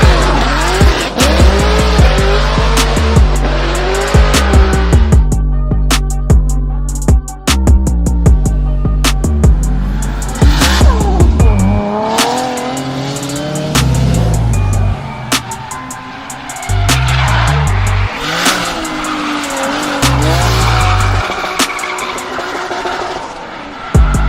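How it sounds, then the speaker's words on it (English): Cars drifting at a supercar club show, engines revving hard and tires squealing in long, loud skids, the screech rising and falling over a steady growl, with little talk. "we had gotten exclusive access to the Supercar Club officials drifting scene that was going on"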